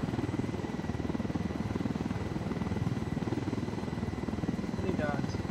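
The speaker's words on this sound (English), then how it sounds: "How can you kill a chopper?" Helicopter in the video game Ghost Recon Wildlands, a steady rotor drone at moderate level with a faint chirp near the end.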